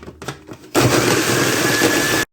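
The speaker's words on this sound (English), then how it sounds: "I'm going to add a little bit of water and blend them up." A food processor blending horseradish with water starts abruptly after a few light clunks, then runs as a loud, steady high-pitched whir for over a second before cutting off sharply.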